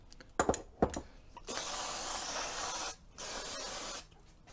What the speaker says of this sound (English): Spraying it with brake cleaner.